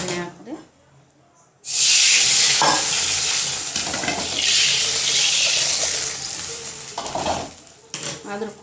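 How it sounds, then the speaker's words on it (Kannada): Hot tempering poured into sambar bursts into a loud, sustained sizzle and hiss, with scraping and clinks of a utensil during the crackle; a few quieter sounds come before it. "ಸಾಂಬಾರಿಗೆ ಕೂಡ ಒಗ್ಗರಣೆ ಹಾಕಿದೆ."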